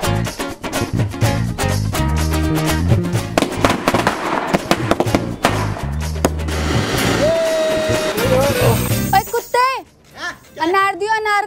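Diwali firecrackers and fireworks burst in a dense, rapid crackling barrage of sharp bangs, loud and close, ending with whistling, warbling sparkler-like tones; children's voices are heard amid the noise.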